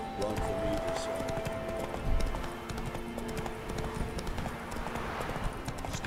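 Clip-clop of Roach, the Witcher's horse, galloping in The Witcher 3, a steady run of hoofbeats under ongoing game speech and background noise.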